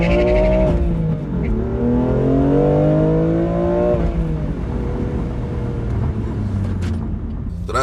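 A BMW M2 launches hard and accelerates, the engine loud and close as its revs climb through several rising sweeps with gear changes, then settle lower.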